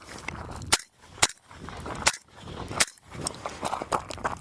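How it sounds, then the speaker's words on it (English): Gunshots ring out during a shooting drill with a steel target: five sharp, loud reports at irregular spacing, some with a faint metallic ring, against background rustle and movement. "sprint back to a secondary firing position and shoot the steel target twice as I enter that"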